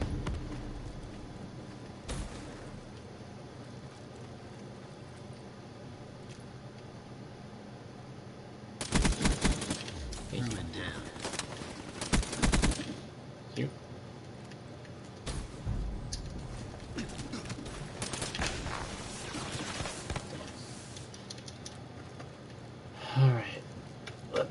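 The Ripper gun fires in a video game on a snowy Redwood map, several harsh rapid bursts of varying length spread through the middle and end, with a person talking over long quieter stretches.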